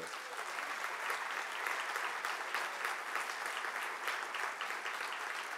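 An audience at a civil rights summation applauds its speakers, a dense and steady wash of clapping that holds at a fairly even loudness throughout, with no voices rising above it.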